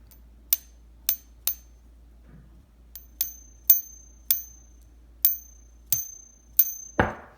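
Repeated taps on a copper coin produce short, bright rings with quick decay, spaced irregularly, ending in a duller clunk.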